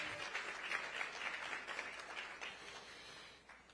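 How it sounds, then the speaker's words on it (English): Audience applause at a UNCF presidents' town hall for Dr. Richardson and the HBCUV team, a steady, fairly faint wash of clapping throughout that thins slightly toward the end. "Can we get another round of applause for Dr. Richardson and the HBCUV team?"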